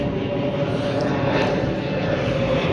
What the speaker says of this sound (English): Of course, there's a plane going over.